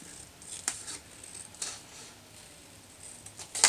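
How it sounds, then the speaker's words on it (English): Scissors cutting around embossing on a paper Easter card: a few crisp, close snips spaced apart over quiet background, with a brisker flurry of cuts at the end. "So now I'll take my scissors and I'm going to cut out"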